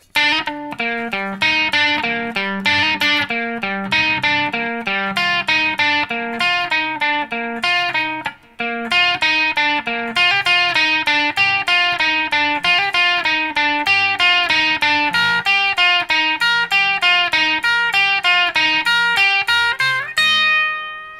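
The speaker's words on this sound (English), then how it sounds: "the next part of the lead guitar during the distorted part sounds like this." A distorted electric guitar plays the fast melodic lead line of a song, with dense picked notes, loud and continuous, with a brief break midway and a ringing final note.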